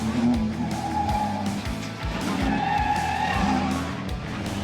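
Tires on a racing truck squeal and skid loudly during an autocross run, the rubber screech sustained over a steady engine roar, close and intense throughout.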